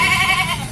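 Kacang goats bleating in a conventional livestock pen: a loud, close, wavering bleat that fills the whole brief moment with no talking.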